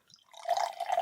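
Black Grouse stout poured into a glass, starting with a few faint drips and then a steady close-up gurgling stream of liquid that fills the glass for the rest of the moment.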